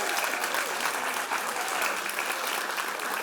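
Audience applause at a TikTok Works auction event, steady dense clapping from a large crowd filling the whole stretch at even loudness.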